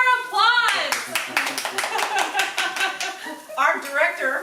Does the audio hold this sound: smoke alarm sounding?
no